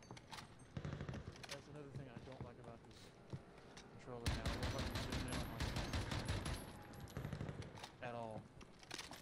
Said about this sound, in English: I'm gonna take a shot.